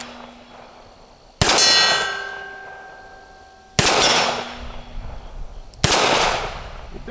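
Three loud, sharp revolver shots from a Smith and Wesson Model 36, spaced a couple of seconds apart, each with a ringing metallic clang that fades slowly, with no talking.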